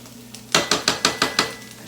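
A metal spoon knocks against a pot while tomato paste is stirred into a meat sauce, six sharp evenly spaced clinks close by after a brief quiet start.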